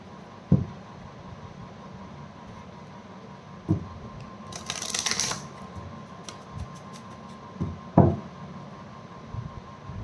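Tarot cards being shuffled in a quiet room: a short, rustling riffle burst in the middle, with scattered soft knocks and taps from the deck before and after.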